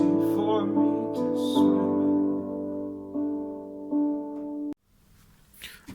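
Piano chords from a song played at a slow, gentle pace, with several sustained chord changes, soft breathy sounds over the top and a fade into quieter noise near the end.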